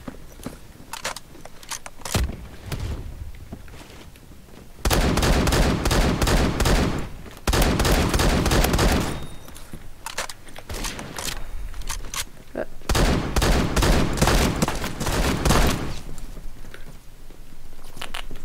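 DBV 12 shotgun firing flechette rounds in the video game Phantom Forces, with long loud bursts of rapid repeated blasts separated by quieter stretches of scattered shots and movement, a voice talking over parts.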